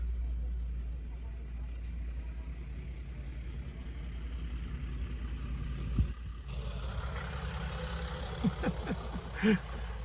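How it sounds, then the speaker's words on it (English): A big stretch limousine rolls in with a low steady engine rumble close by, joined by faint squeaks and knocks partway through, while someone talks over it. "Here comes the beautiful big limo."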